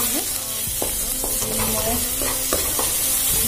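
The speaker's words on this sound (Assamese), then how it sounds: "আদা নহৰু পিঁয়াজখিনি ভালদৰে ভাজি ল'ম" Ginger, garlic and onion frying in oil with salt and turmeric, for an Assamese fish dish, make a loud continuous sizzle up close, punctuated by sharp scrapes and taps of a stirring spoon, with one brief spoken word.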